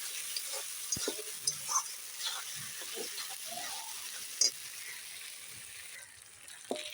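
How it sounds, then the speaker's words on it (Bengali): Spice masala being stirred and fried in a pan with a little water for a chicken curry, giving a steady soft sizzle and hiss broken by scattered spoon scrapes and clinks, with no talking. "মশলাটা ভালো করে কাটিয়ে দিয়ে দিচ্ছি একটু জল দিয়ে জল দিয়ে ভালো করে কষিয়ে দিচ্ছি"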